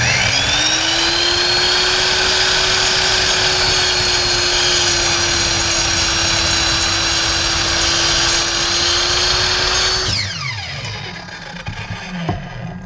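A power saw cuts through wood for coasters with a loud, steady whine throughout. The tone holds level as the blade works through the board, then winds down when the cut ends near the close.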